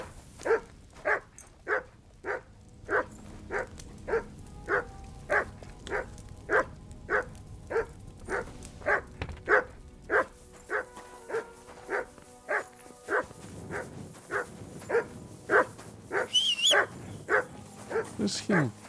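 A dog in Kingdom Come: Deliverance 2 yaps in a long run of sharp, evenly spaced barks, fairly close and persistent, with a little whimpering toward the end and some background game sound.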